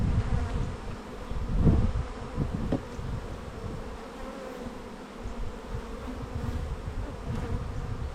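Honeybees swarm around an opened hive box during comb cleaning, a dense, steady buzz close by with brief louder swells as insects pass near, no voices.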